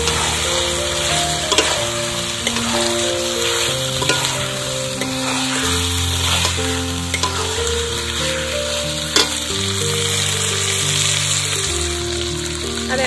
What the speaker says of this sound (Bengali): আর দেব পরিমাণ মতো জিরে এবং মরিচ বাটা, দিয়ে ভালো করে কষিয়ে নেব